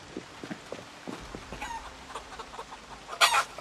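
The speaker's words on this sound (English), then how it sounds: "Are there chickens already in here?" Chickens cluck in short, scattered bursts in the survival video game Project Zomboid, moderately faint and close, with a louder squawk near the end and no talking.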